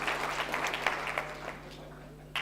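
Audience applause at a Sacco summit, a steady wash of many hands clapping at moderate distance, fairly quiet, with a faint mains hum underneath and no voices standing out.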